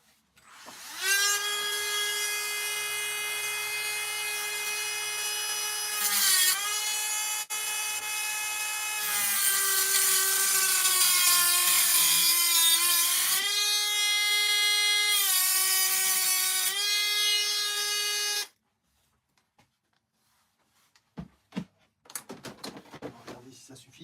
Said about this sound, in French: il faut faire un petit trait et utiliser la Dremel